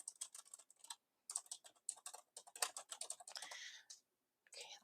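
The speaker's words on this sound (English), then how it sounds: "Clearly can't talk and type." Rapid bursts of typing on a computer keyboard, fairly close and clear, with short pauses between runs of keystrokes and no talking.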